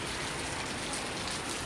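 Heavy rain pours down steadily, a dense, continuous hiss of drops striking surfaces close by with no pauses and no voices.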